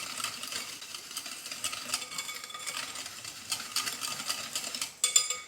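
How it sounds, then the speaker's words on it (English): A whisk swirls cornstarch, spices and salt together in a bowl, a fairly quiet rapid scraping and ticking that runs steadily, ending with a couple of louder clinks against the bowl. "Combine them. I'm going to give them a good whisk."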